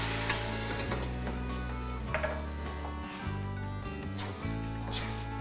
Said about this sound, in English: And now I will deglaze with the white wine.